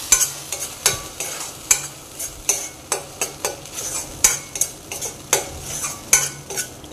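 A thick ginger, tomato and cashew paste being stirred into frying onions for mushroom masala, with steady sizzling under repeated scraping strokes of a spoon against the pan, close and fairly loud, no talking.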